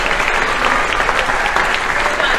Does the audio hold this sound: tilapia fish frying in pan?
no